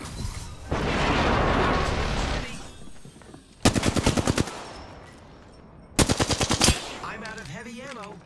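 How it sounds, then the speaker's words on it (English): Bursts of automatic gunfire in Apex Legends: a sustained noisy stretch of shooting, then two sharp rapid-fire volleys of about eight rounds each, loud and close, with a faint game tone after. "Enemies are shooting at me."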